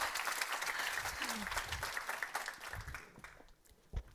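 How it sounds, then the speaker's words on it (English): Audience applause at a Nordic female investor meetup, lively clapping with a cheer that gradually thins out and fades, close and moderately loud. "Big round of applause."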